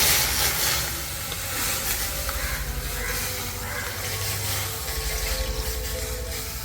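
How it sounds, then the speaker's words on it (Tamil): Creamy milk is poured into a pan and heated, giving a steady low sizzle and bubbling hiss with faint stirring, moderately quiet and continuous, with no talk. "பாலை காய்ச்ச போகிறோம்"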